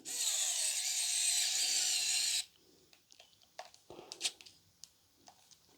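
A KAiWEETS ES21 cordless electric screwdriver drives a screw tight, whirring loudly and steadily for about two seconds. It then stops, followed by small handling clicks and taps.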